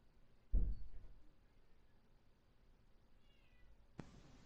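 A cat gives a single short meow near the start, fairly faint in a quiet indoor room, followed by a brief sharp noise near the end.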